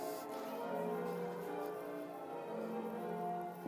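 Church bells of a ten-bell tower ring a continuous practice peal, the overlapping tones steady and fairly faint, as if heard from some distance outside the church.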